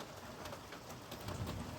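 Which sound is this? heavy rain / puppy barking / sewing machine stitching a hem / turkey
heavy rain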